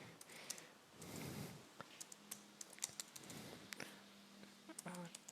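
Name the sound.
typing on a computer keyboard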